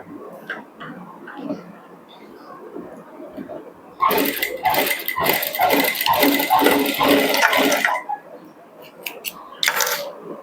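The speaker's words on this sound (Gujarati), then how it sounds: "આપણે ટૂંકા ભાગ ઉપર લાંબો ભાગ મૂકીશું આ રીતે અને સિલાઈ લગાવીશું" A sewing machine stitches a long fabric strip laid over a shorter one, running in a fast, steady clatter for about four seconds, then in a brief second burst, with quiet handling and a soft voice around it.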